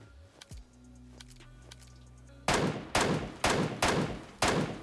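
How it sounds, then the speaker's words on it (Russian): Five sharp gunshots in PUBG Mobile's Metro Royale mode ring out at a steady pace after a quieter stretch of soft clicks and mechanical game sounds. "Сейчас, наверное, попробую пострелять в эти щели."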